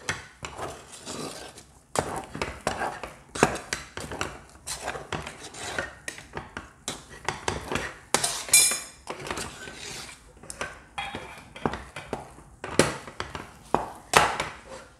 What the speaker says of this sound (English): I'll stir this, Mytra.